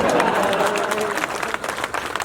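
Audience applause at a Hindi comedy poetry gathering in Shivrinarayan, a dense burst of clapping that starts loud and gradually thins out over a couple of seconds, with no speech over it.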